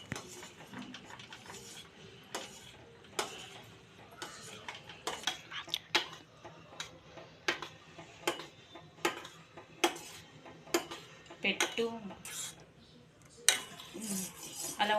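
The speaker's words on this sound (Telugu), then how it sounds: "అలా ఉండలేకుండా మొత్తం పాలలో మిక్స్ అయ్యే విధంగా కలుపుకోవాలండి" A spoon stirs 100-gram ice cream mix into milk in a metal pot, repeated scraping clinks against the sides in a steady uneven rhythm, close and moderately loud, with brief quiet talk in the background.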